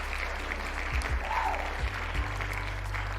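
A steady applause sound effect, a dense patter of crowd clapping over a low hum, with a few thumps scattered through it.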